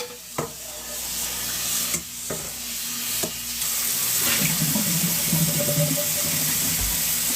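Tap water runs steadily over produce being washed at a kitchen sink, a continuous close splashing hiss with a few brief clatters, no talking.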